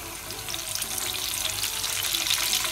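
Cassava pieces dipped in seasoning and fried in hot oil, a steady bright sizzle and bubbling that builds slightly and runs continuously without speech.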